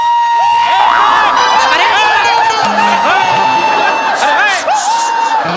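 Loud, dense crowd cheering and whooping in a theatre, a mass of shouting voices and high whistles sustained throughout without a break.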